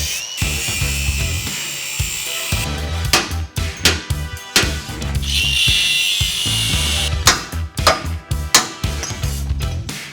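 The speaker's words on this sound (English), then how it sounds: "So let's get to grinding." An angle grinder cuts frame hangers off a Toyota 4Runner in harsh, screeching metal bursts that start and stop repeatedly, loud and close throughout.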